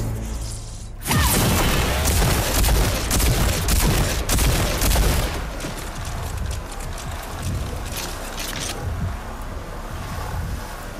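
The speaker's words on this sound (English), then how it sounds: "Use the combat shotgun's overdrive against the simulated enemies." Combat shotgun overdrive in Rage 2 fired against simulated enemies: a sudden loud blast opens a dense stretch of heavy gunfire and booming impacts, which stays loud for several seconds before easing into a lower rumble.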